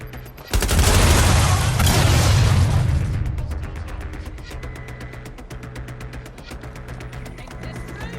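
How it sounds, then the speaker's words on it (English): A grenade detonates in the video game Watch Dogs: Legion, a loud broadband blast that rolls on for about two seconds before fading into a lower rumble with faint rhythmic ticking beneath. "Releasing front grenade."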